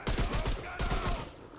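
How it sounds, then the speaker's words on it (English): Gunfire in the video game Remnant 2, a rapid burst of repeated shots followed by a second volley, loud and dense, with no talking over it. "Oh, gunfire."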